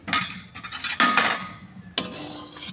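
Spoon clinking and scraping against a cooking pot while stirring lemony chana dal just off the stove after fresh lemon juice is added, a few sharp metallic knocks and scrapes close up with no talking.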